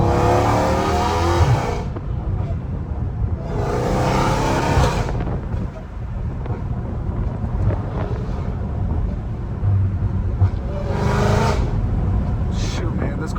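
A Dodge Challenger Hellcat Redeye with a catless titanium valved exhaust revs and drives, a loud deep engine roar with pops and surging pulls, buffeted by wind noise, with a voice speaking over it.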